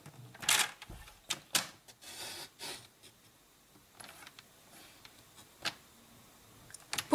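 A cutting tool scoring and trimming paper for a handmade tea basket box, making a series of sharp, irregular scraping clicks and short swipes, close and fairly quiet with small pauses between strokes.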